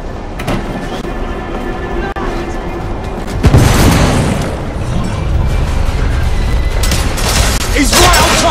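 A loud explosion rumbles through a Victorian-era action scene in the video game The Order: 1886, with a heavy boom around the midpoint over dense, continuous low rumble and debris noise.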